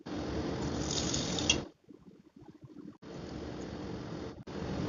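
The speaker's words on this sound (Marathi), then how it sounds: "चण्याची डाळ धुवून घ्यायची." Chana dal being washed with water, a steady close rush of pouring and sloshing water that breaks off into a few seconds of quieter splashes and drips, then resumes and runs to the end, with no talking.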